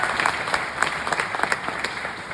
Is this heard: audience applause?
yes